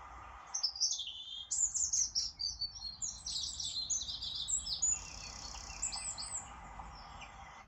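A wild bird sings just outside open car doors, bright chirping and warbling phrases repeating close by, loud and continuous over a quiet background with no talking.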